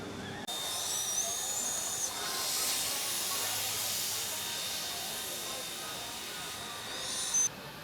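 The Dollywood Railroad steam train gives off a broad, steady steam hiss that lasts for several seconds at moderate distance, with faint background noise and a short sharp tone near the end.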